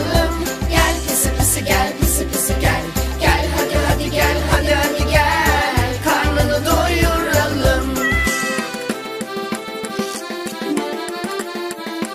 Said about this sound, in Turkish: Güzel tatlı minik kedi miyav miyav miyav dedi